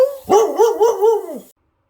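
A dog gives a single drawn-out, wavering bark-howl, close and loud, lasting about a second before cutting off into silence.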